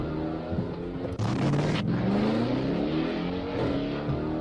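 A black Dodge Charger launches away from police at a traffic stop, its engine roaring loud and close with a rising pitch as it accelerates hard, sustained for several seconds.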